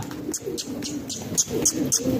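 Domestic pigeons from a flying flock give soft, repeated coos close by, mixed with short bright chirps spaced about every quarter second.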